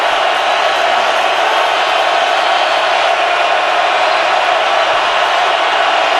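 A packed Seattle Seahawks stadium crowd roars during a 2013 NFL game against the Saints, a loud, unbroken wall of noise that holds steady throughout.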